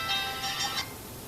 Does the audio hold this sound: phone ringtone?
yes